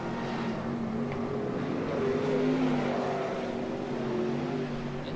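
Sprint cars race at the Western Springs speedway in New Zealand at a 1987 championship, a continuous distant engine drone with shifting pitch as cars circle the track, moderately faint and steady.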